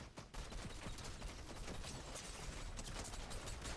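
Rapid bursts of gunfire in the Fortnite video game crackle almost without pause, dense and sustained but faint and distant in the mix, with no talking.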